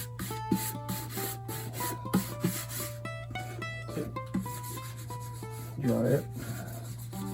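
Rag rubbing a finish coat into a mandolin's wooden body, soft repeated scrubbing strokes close by with a steady low hum beneath, and a brief spoken remark partway through.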